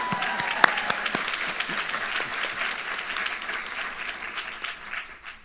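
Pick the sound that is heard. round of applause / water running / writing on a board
round of applause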